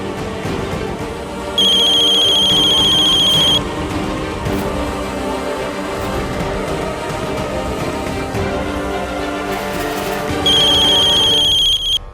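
A phone ringtone plays in two bursts, a steady high electronic trill over busy background music, first near the start and again near the end.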